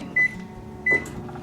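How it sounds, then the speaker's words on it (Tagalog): A microwave oven heats a chopped dessert, giving two short, clear electronic beeps close by over a low steady hum, with faint kitchen clatter. "Ima-microwave natin siya para mas chewy siya."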